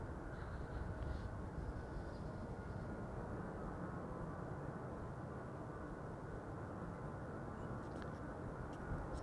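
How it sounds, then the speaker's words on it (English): A United Boeing 767-300 airliner departing Amsterdam Schiphol on its way to Washington, heard as a broad, steady jet roar held at an even level throughout, moderately distant, with no talk. "This is United flight 947 to Washington. That's a 767-300."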